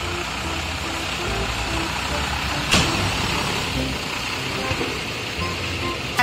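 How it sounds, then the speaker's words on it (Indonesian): Garbage truck engine rumbling steadily at close range, a broad continuous drone with one sharp knock partway through and no talk over it. "Wah, lalu juga ada truk sampah teman-teman,"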